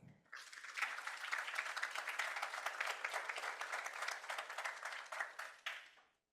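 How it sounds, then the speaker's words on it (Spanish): An audience at a university talk applauds for three guests, a steady wash of clapping that builds quickly, holds for several seconds, then fades out. "Un aplauso para los tres, por favor"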